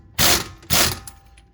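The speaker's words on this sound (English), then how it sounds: "I am using my impact" An impact wrench with an 18mm socket tightens a sway bar link nut on a 2015 Toyota Sienna LE, sounding two short, loud, close rattling bursts separated by a brief pause.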